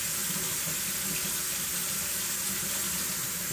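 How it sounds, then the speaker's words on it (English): Running tap water rinses soap off muddy bicycle frame shields during a postwar F3 frame restoration, a steady close splashing rush that continues without pause. "Rinse it."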